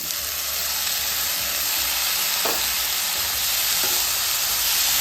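Sprouted moth beans hit hot masala in a pan for Uttara Karnataka-style usli, giving a steady, loud broadband sizzle throughout with a few faint stirring scrapes and no talking.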